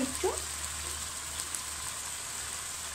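Raw mustard oil sizzling in a pan, a soft, even crackle that runs continuously with a light scrape at the start.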